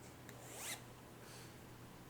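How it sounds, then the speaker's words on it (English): A zipper on the cover of a Purple Pillow is pulled open in a couple of quick, close rasping strokes, followed by a brief pause and a sharp final zip. "All I have to do is unzip this guy."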